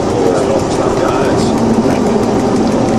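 A locomotive rumbles through cuttings in strong wind on the Sydney–Bathurst line, a loud continuous low engine drone and rail noise with gusty buffeting, while a voice talks over it.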